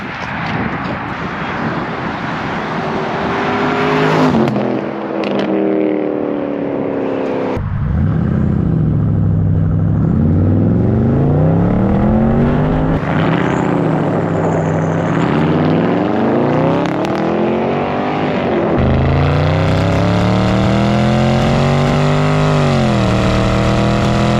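An Audi RS6 drives by on a service road, its loud engine revving through rising and falling gear pulls, sweeping past with a throaty roar that builds, drops and climbs again.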